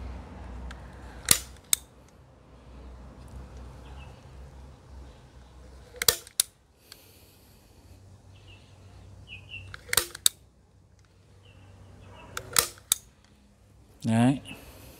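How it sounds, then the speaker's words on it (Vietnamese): A handheld tying tool snaps yellow wire ties onto orchid stems during propagation of a cane orchid, giving sharp isolated clicks and clacks at irregular intervals, loud and close, over quiet background. "ta đặt cái dây vàng này ngược lại và ta bắn vào những cái vị trí mà cảm thấy nó long lay"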